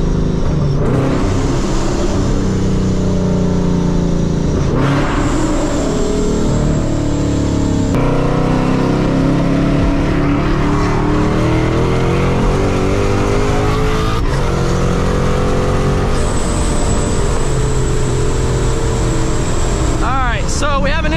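A loud 700-horsepower Ford Mustang engine revs hard and climbs in pitch, drops sharply at each gear shift, then climbs again, with people talking over it.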